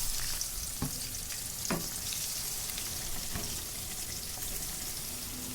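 Pieces of a large duck, about three kilograms, fry with spices in a pan, giving a constant close sizzle with a few scraping stirs now and then.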